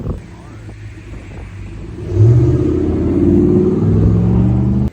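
A tow truck arriving for a broken-down scooter, its engine rumbling in at close range and growing louder midway, then holding a steady drone before cutting off abruptly.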